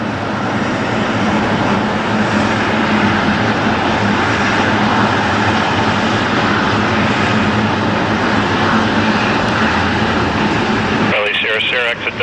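An airliner takes off from runway 6 left at Toronto Pearson, its jet engines a loud, continuous roar building and holding steady, with a tower radio voice cutting in at the end.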